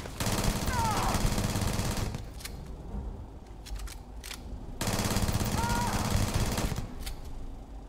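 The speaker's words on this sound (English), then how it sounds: "Or you might just be perpetually staggered by my mini SMG" Rapid bursts of mini SMG gunfire in the sci-fi shooter Starfield, two loud sustained volleys separated by quieter combat noise, with a voice briefly audible.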